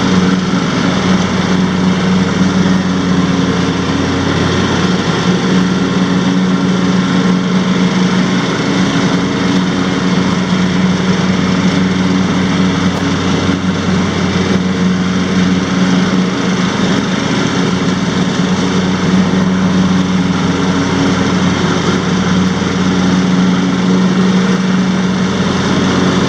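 A 2017 John Deere X350 lawn tractor cuts grass and pulps leaves, its engine and mower deck giving a steady, loud, unbroken drone throughout with no talking.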